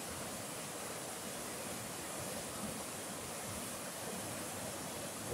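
Spring water pouring down at Greer Spring in the Missouri Ozarks, a steady full-band rush like a small waterfall, continuous and even throughout with no voices.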